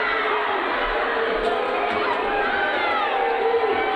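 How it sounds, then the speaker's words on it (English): Junction City basketball crowd in a high school gym yelling and cheering in frustration at a tight finish: a dense, continuous roar of many voices with shouts and whoops, loud and sustained throughout. "The Junction City crowd is getting crazy"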